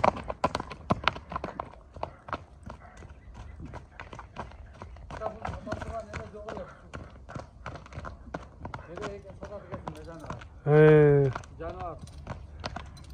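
Hooves of Kyrgyz pedigree horses clip-clop on the ground at a horse market in Korgon, an uneven series of sharp knocks under steady talk, with one loud neigh near the end.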